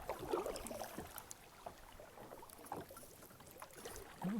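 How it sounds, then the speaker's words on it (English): Quiet kayak paddle strokes dip and swish through water, soft splashes and drips against a faint outdoor background, in Cape Breton, Nova Scotia. "I'm just going to paddle up to these fishermen here"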